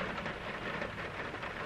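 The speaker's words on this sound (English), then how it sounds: "not gonna see a whole lot because it's raining pretty hard still" Heavy rain pouring down at Lake Saiko near Mount Fuji, a dense steady hiss of drops on surfaces, close and constant with no voices.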